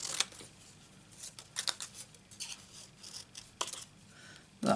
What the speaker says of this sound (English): What we need to do is cut these out.